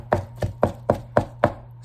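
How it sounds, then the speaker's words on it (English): Kitchen knife finely chopping shrimp on a cutting board for sushi, six crisp, evenly spaced knocks in a steady rhythm, close and clear with no talk. "I'm currently chopping shrimp, fairly fine."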